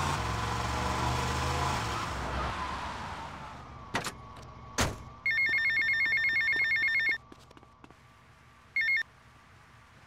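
A payphone rings in the Vice Point district in the video game GTA Vice City, bursts of electronic ringing clearly audible after a steady hum of engine noise and a couple of sharp thuds.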